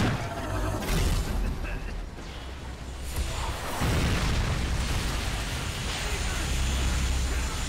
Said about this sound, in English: Stand by for Cortex detonation.